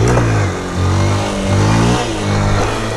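A 2023 Honda Fan 160 motorcycle revs hard in first gear, its loud, close engine note rising and dipping in several surges without pause, with no talk.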